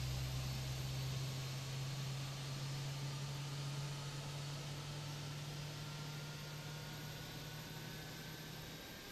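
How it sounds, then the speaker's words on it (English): Fenix A321 airliner engine spooling up in Microsoft Flight Simulator, a steady roaring hiss with a low hum and thin tones slowly rising in pitch, continuous and fairly even. "we'll watch the engine spool up from the outside here"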